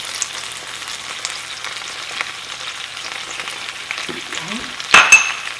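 Refried beans cooking in a pan with onions nearby, giving a steady close sizzle and frying crackle throughout, a brief stir and clink near the end, and a single short word spoken over it.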